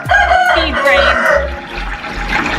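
Chickens clucking and a rooster crowing on a homestead farm, several overlapping calls fairly close with a steady low water-like rumble beneath and faint talk.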